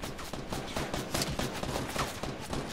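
Rapid bursts of suppressed SMG fire in the game Fortnite crackle in quick succession, dense and fairly muffled, with no talking over them.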